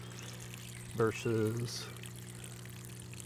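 Brief pour of water draining into a pipe and splashing for about a second, heard close over a steady background hum, with a short spoken word nearby.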